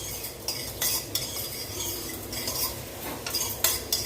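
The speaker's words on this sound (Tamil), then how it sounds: "பாருங்கள் கடுகு வெடிக்க ஆரம்பிச்சிருச்சு" Irregular sharp pops and crackles of mustard seeds spluttering in hot oil, close by, over a steady low sizzling hiss.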